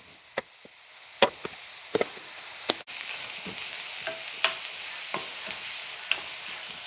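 Chopped onion and curry leaves frying in hot oil, a soft steady sizzle broken by sharp scraping clicks of a spoon stirring the pan, close and alone.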